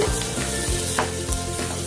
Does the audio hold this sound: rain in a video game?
no